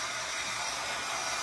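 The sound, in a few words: hair dryer drying paint on decor piece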